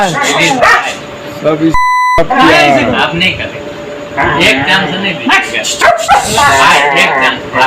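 A pet dog barks and yelps repeatedly during an attack on a boy in Muzaffarpur, under loud overlapping voices, with a short electronic beep partway through.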